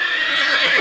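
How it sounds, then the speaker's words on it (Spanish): A horse neighs loudly and close, one sustained shrill whinny that wavers and fades at the end, with no voices over it. "Caballo."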